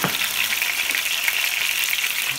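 Tomatoes for pasta puttanesca cook in a pan, giving a steady, loud, close sizzle of frying that runs unbroken throughout.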